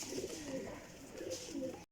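Pigeons coo in repeated low, throaty phrases at moderate volume, several overlapping calls rising and falling across the moment, with a soft steady background hiss and no talking.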